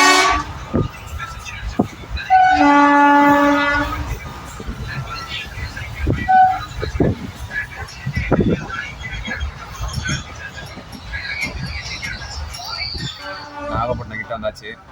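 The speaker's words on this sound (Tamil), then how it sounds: "இப்போ நம்ம இருக்கிறது திருச்சிராப்பள்ளி ரயில்வே ஜங்ஷன்ஸ்" A train horn toots loudly a few times amid station bustle and people talking at Tiruchirappalli railway junction, with rumbling rail noise underneath.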